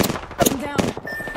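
Automatic gunfire in the video game Apex Legends comes in rapid loud bursts with sharp cracks and brief gaps between volleys, close and dense, with game effects mixed in.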